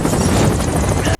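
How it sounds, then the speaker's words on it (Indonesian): A helicopter losing control in bad weather in a film scene, a loud dense rotor roar with fast chopping pulses that cuts off abruptly after about a second. "Namun saat giliran Peter, helikopter mulai kehilangan kendali."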